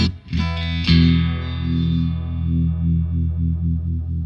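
Electric guitar played through an effects pedal set to tremolo with a filter effect: a sustained, distorted chord that pulses in quick, regular throbs with a sweeping tone, loud and close with no voices.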